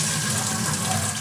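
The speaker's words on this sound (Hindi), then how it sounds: "अब मैं गोभी धो ले रही हूँ।" Tap water runs steadily while cauliflower is washed at a kitchen sink for gobhi pakora, a continuous close splashing gush with no talk.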